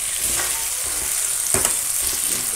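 Chopped duck meat sizzles with onion and garlic in a hot pan while it is stirred, giving a steady crackling fry broken by soft scraping strokes.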